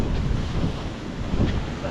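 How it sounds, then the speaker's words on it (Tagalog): Strengthening sea waves surge and wash with heavy wind buffeting the microphone, a dense, rough roar close by out on the water. "Lumalakas na po ang alon."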